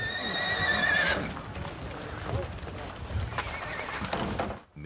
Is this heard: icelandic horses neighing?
yes